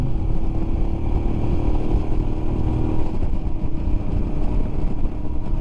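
A 2021 Royal Enfield Himalayan BS4 single-cylinder engine chugs loudly and steadily while riding, with a throbbing low thump and some rattle.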